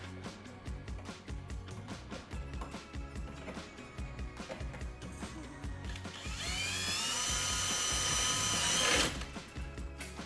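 A power drill drives self-drilling screws into a garage door closer arm bracket on a sectional garage door, with rapid clicking and whirring bursts followed by a loud sustained high whine for several seconds, no talking.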